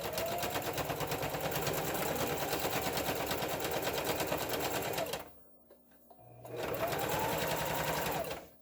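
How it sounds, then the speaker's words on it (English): Domestic sewing machine stitching the side seam of a fabric drawstring bag, a steady close rapid needle chatter running about five seconds, a brief near-silent pause, then the stitching resumes at full pace. "All right, so now we're going to sew the other side."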